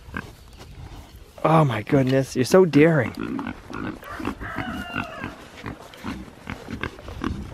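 Pigs grunt beside an electric fence on a farm, giving short low snorts and grunts, with someone talking loudly over them partway through.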